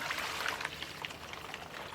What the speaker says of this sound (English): That's how warm the water is that comes out of these Kozy coats.